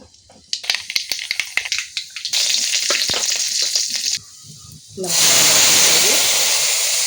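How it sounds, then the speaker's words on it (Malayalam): Mustard seeds hit hot oil while tempering for mango pulissery, giving sharp crackles and pops, then a loud sustained sizzle and hiss as the tempering is poured in, close and with no talking. "ചൂടായി കടുകിട്ട് കൊടുക്കാം"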